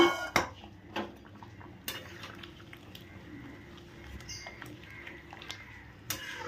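A prawn curry is stirred in a pan, giving a few soft metallic clinks and scrapes over a low, steady background bubble. The sound is quiet and close, and no one talks.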